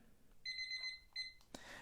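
A kitchen countdown timer alarm goes off in quick repeated beeping bursts, two clear volleys of steady electronic tones, close and fairly quiet, with a short rustle at the end.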